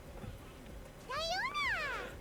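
A cat meows in the video game Genshin Impact: one clear, drawn-out meow with a rising then falling pitch, following quiet soft background sounds and faint voices.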